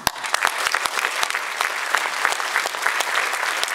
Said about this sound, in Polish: Piękne oklaski, proszę Państwa,